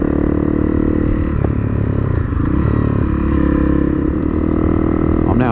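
Honda CRF250L dual-sport motorcycle riding a forest trail, continuous loud nearby engine drone with gear and clatter sounds from the rough track, no talk.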